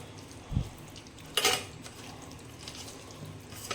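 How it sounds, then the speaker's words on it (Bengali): Chicken being mixed by hand with salt, turmeric and sour yogurt marinade in a bowl, giving a few scattered wet clinks and scrapes against the dish, fairly faint and close with quiet pauses between. "এখন এই যে লবণ হলুদ আর একটু টক দই দিয়ে ম্যারিনেট করে রাখবো"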